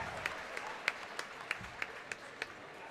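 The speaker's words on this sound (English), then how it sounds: "Round of applause from Mason" Applause ripples through a high school varsity basketball crowd, Frederick versus Skyline, honoring a player named Mason: a steady wash of diffuse clapping, fairly faint, with several sharper individual claps popping out at roughly regular intervals, and no voices.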